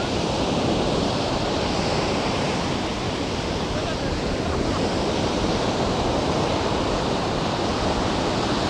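Steady, dense roar of Indian Ocean waves washing onto Marina Beach in Chennai, loud and continuous with no clear breaks.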